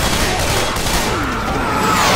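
Rapid gunfire in the video game Left 4 Dead 2 while shooting zombies, a loud, dense, continuous barrage of shots filling the whole moment.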